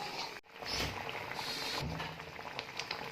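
Aloo bukhara plum chutney simmers in a pot, a soft continuous bubbling and popping patter, close but quiet, with no talking.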